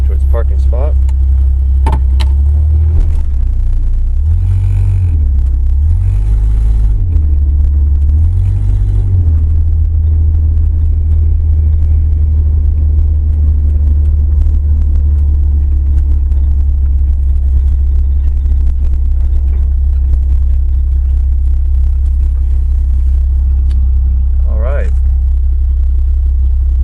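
1982 Ford Granada running on factory propane LPG, reversing into a parking spot: a loud, deep, steady engine rumble dominates close by, with a brief rise in revs early on and faint occasional clatter.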